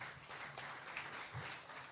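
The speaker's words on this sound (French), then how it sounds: "Je pense qu'on peut encore l'applaudir" Faint, distant applause from an audience following a speech, a soft continuous patter of clapping that holds evenly throughout without any voices.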